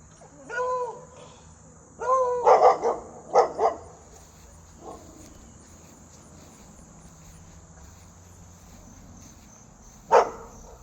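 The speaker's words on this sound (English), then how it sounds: "that dog scared the bejesus out of me" A dog barks in a yard: a few loud, close barks, a short cluster, then a single later bark, over a steady high insect drone like crickets.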